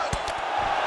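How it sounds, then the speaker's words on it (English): Arena crowd noise from a UFC 5 video game fight between women fighters, a steady roar of cheering with a couple of brief louder whoops rising above it. "The crowd is losing their mind."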